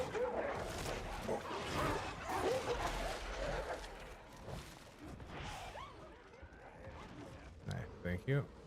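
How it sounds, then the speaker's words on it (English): A dog barks and yips in Warhammer 40K Darktide over a busy co-op firefight, mixed with crashes, in-game effects and overlapping player voices throughout. "Well, the dog's there."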